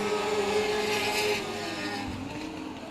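A mini sprint race car runs down the back straightaway at South Texas Speedway, its engine a continuous loud drone with a steady pitch that eases off slightly partway through.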